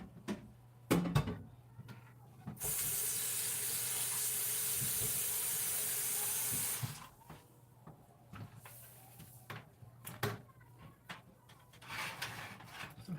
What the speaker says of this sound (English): Let me put this pan in the sink.